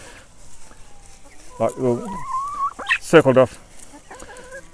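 Backyard chickens clucking and calling near a compost area, with several short bursts and a rising squawk over soft outdoor background, along with some brief speech.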